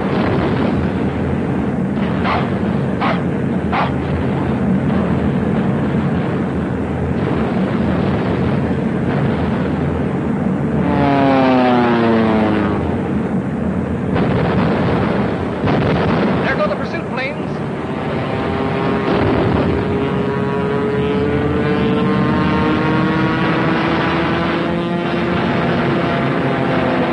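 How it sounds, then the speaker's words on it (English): Bomber aircraft from the 1941 film I Wanted Wings drone overhead, their engines forming a loud, sustained roar with sweeping pitch changes as they pass, mixed with rumbling blasts throughout. "Here come the bombers now."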